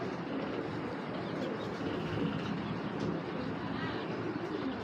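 Bangladeshi game pigeons coo softly in a loft, their low murmuring blending into a dense, steady bed of background noise at moderate distance, with no clear talking.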